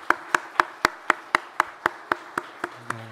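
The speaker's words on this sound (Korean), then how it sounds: "우리 수고하신 모든 분들을 위해서 한번 감사의 박수 한번 하겠습니다." Applause at a Sunday morning church service comes as crisp, evenly spaced claps in unison, about a dozen in a steady beat over three seconds, close and clear with no talk.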